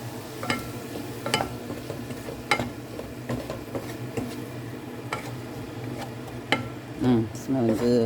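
Pepper and garlic seasoning being mixed into food in a pan: scattered sharp utensil taps and scrapes over a soft cooking hiss, with a brief voice near the end.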